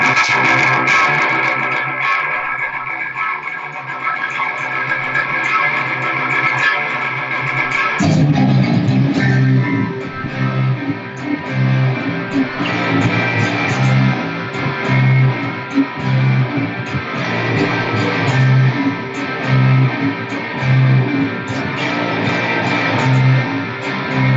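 A heavily distorted electric guitar, run through the effects loops of Dirty Shirley amps, plays a sustained filtered riff, then opens into louder rhythmic chugging with thick, processed tone and steady pulsing chords.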